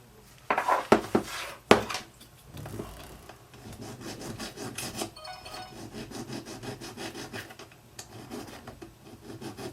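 Metal file rasping against the damaged aluminum corner of an iPad, smoothing away burrs; a few sharp scrapes at first, then a steady, close run of rhythmic strokes with no talk.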